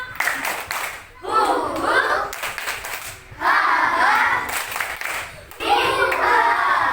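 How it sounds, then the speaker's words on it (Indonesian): Three bursts of rhythmic group clapping from a classroom of children, each a quick patterned series of claps separated by short pauses. "Ya, sekali lagi tepuk semangat baru."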